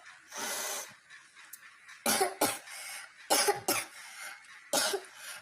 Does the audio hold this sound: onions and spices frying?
no